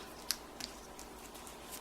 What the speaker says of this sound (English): I'm just going to take my scissors and cut the tails off at a little bit of an angle.